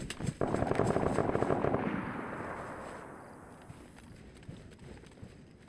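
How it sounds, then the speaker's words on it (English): Distant gunfire in DayZ near an airfield on the Deer Isle map: a rumbling burst of shots that rolls for about two seconds, then fades into a low, drawn-out echo with a few faint cracks trailing behind. "Right, gunshots on that side of the airfield."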